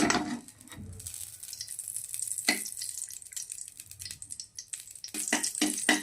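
Dry fruits hit hot ghee for pumpkin kheer, giving soft crackling sizzle with a few sharper pops and stirring scrapes, faint and close, with no talk over it.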